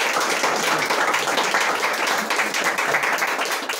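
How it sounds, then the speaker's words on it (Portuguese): Steady applause from a congregation at an outdoor church service on a farm, many hands clapping continuously at an even, dense level throughout. "Você quer dar uma salva de palmas para ele?"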